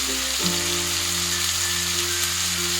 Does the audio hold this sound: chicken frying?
yes